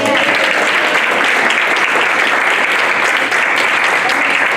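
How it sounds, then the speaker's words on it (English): Loud, continuous applause from the audience at a library friends group's 2019 annual meeting, close and dense throughout the few seconds with no break. "One more round of applause."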